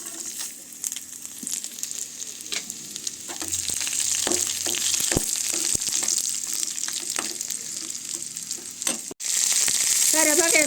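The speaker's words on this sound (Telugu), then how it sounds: "కరివేపాకు వేసుకోవచ్చండి. దోరగా వేపాలండి." Curry leaves dropped into hot oil for an Andhra-style tempering, crackling and sizzling loudly and steadily with scattered sharp pops and a brief stir near the end.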